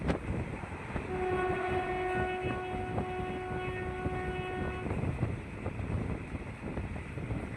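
Bhuj to Rajkot special passenger train running along the line, steady loud rolling rumble throughout with a sustained horn tone held for about four seconds in the middle.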